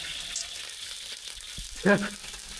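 Hot oil frying in a pan gives a steady, close sizzling hiss throughout, with a short clatter or stir near the end.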